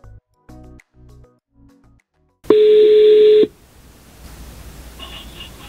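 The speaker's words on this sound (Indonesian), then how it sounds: "kita juga dapat menerima atau melakukan panggilan telepon, suaranya cukup jernih dan jelas" Outgoing call being dialed through a Skeleton SKT AD8189 Android car head unit: a few short keypad tones, then one steady dial or ringback tone lasting about a second, followed by faint background hiss.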